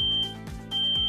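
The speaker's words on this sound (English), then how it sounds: "Know the sound of a smoke alarm and what to do when you hear it." A smoke alarm beeps loudly and close by in a shrill, piercing tone, sounding twice in quick succession.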